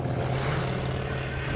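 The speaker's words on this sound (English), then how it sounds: "That's a plane!" A World War II–era propeller plane drones past in Call of Duty: Vanguard, a steady low engine hum that holds loud and even throughout, with no break in the roar.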